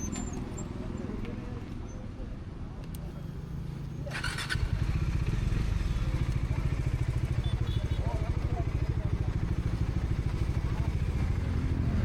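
A KTM RC/RR 310 sport motorcycle engine idles steadily, then gets louder and rougher as it revs, close by, with voices faintly underneath.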